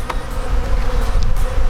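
Honey bees buzz in a dense, steady drone during a transfer from a nucleus box into a full-size beehive. The swarm sounds close and loud, with no voices.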